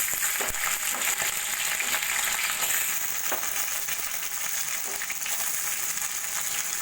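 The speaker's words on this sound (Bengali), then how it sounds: "দিয়ে কাঁঠালের বীজগুলো একটু ভাজা ভাজা করে নেব" Chopped garlic, green chilies and cut jackfruit seeds fry in a pan, giving a loud, continuous sizzle with occasional stirring scrapes and clicks, heard alone.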